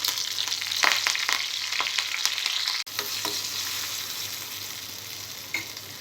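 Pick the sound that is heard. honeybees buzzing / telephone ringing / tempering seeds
tempering seeds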